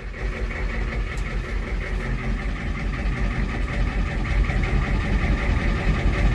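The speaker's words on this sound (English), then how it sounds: "Now we're going to fire this thing up, and hopefully we can get this dump bed to go up and down on its own with no assistance." A 6.9L diesel in a Ford dump truck runs at a steady idle with a PTO engaged, giving a loud, continuous low rumble and clatter with no voices.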